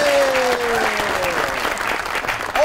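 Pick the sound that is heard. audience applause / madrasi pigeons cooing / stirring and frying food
audience applause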